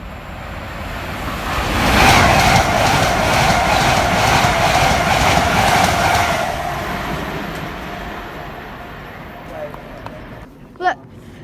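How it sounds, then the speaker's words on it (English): A Class 387 electric train runs non-stop through Stevenage station, a loud rushing roar with rhythmic wheel clatter that swells, holds for several seconds, then fades away, leaving quieter station ambience. "Look, there's a non-stop class 387 by the looks of things."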